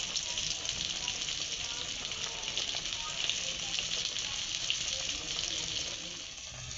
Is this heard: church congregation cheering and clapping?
no